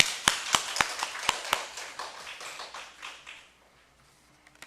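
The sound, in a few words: congregation clapping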